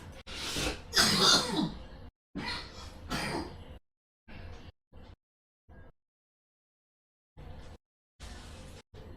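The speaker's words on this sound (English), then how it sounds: "I'm about to start coughing again" Someone coughs and clears their throat in several harsh bursts, close up, with short silent gaps between the later, smaller coughs.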